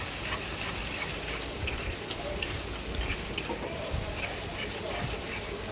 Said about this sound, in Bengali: আর একটু লবণ দিয়ে ভালো করে ভাজা ভাজা করে নেব একসঙ্গে